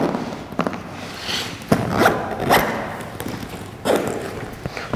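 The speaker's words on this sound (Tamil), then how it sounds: "ஜிப்பர்ஸ் எல்லாமே ரொம்ப நல்லா இருக்குது. அந்த சவுண்டுமே ரொம்ப நல்லா இருந்துச்சுன்னு" Zippers on a Cosmus DSLR camera backpack being pulled closed, several short raspy zips and light thumps of the bag close by, with no talking.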